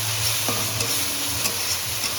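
Tangra fish stirred in a frying pan with salt as it fries, a steady low sizzle under a faint scrape of the spoon, close and continuous.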